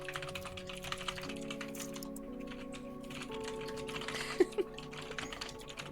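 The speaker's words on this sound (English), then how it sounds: "The furious typing. I love the typing in the background." Fast, furious typing on a computer keyboard clatters in a rapid, uneven stream of light key clicks, heard quietly behind steady background music tones.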